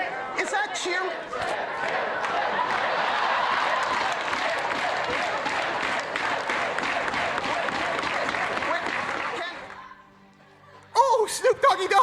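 A large crowd cheers and applauds loudly and steadily for about ten seconds, then fades to near quiet before a brief fresh burst of clapping and shouts.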